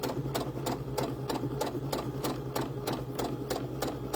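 Sewing machine stitching loops of doll hair, a fast even rhythm of sharp needle clicks over a continuous motor whir, close and clear, with no talk.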